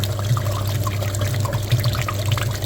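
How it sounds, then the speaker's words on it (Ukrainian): Water running and trickling steadily through a very dirty, neglected heater radiator from a Hyundai Sonata as it is flushed, a continuous close wash with splashing and dribbling and no talk. "Отже, миємо такий радіатор, подивимось, до чого домиємось."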